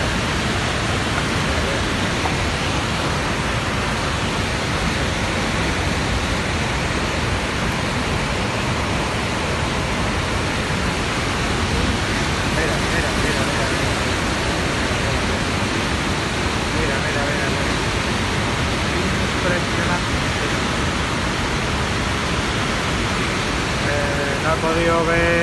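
The Tajo de Ronda gorge waterfall sends down a loud, unbroken roar of rushing torrents, a dense and steady wash of falling water that fills the whole stretch without pause.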